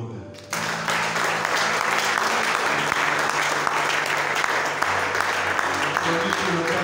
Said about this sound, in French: On applaudit pour nous-mêmes.